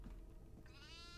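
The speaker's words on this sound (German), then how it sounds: "Ich hab eine Ziege." A goat in the horror video game Devour gives one faint, wavering bleat midway through, set in a steady bed of low noise.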